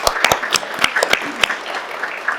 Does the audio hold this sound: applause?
yes